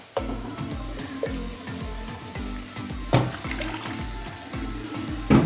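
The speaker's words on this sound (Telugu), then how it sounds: "ఆ తర్వాత దీంట్లో వాటర్ వేస్తున్నాను కొద్దిగా" A little water is poured into a pot of crab curry made with tamarind pulp, a close liquid splashing and trickling sound over a repeating low bubbling pulse from the cooking.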